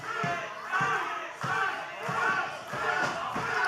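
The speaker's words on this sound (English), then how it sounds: "The crowd trying to rally Super Z back into this thing now." Wrestling crowd at an OVW RISE show rallying behind Super Z, a steady roar of voices with rhythmic swells and chant-like pulses filling the arena.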